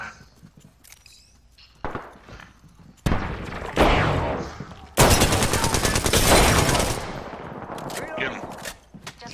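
Gunfire in Apex Legends: a few scattered shots, then dense bursts of rapid automatic fire, loud and close, with game sounds and players talking.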